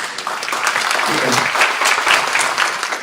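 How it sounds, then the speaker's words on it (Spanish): Attendees at an accounting seminar on IFRS 15 and 16 give a speaker a round of steady, fairly loud clapping that continues throughout without any talk. "Les pido un voto de aplauso para Carlos."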